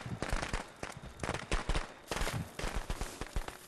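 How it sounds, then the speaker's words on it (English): Fireworks explode in the Friday the 13th video game. Rapid, irregular bursts of pops and bangs crackle nonstop and fairly loud throughout. "What fireworks!"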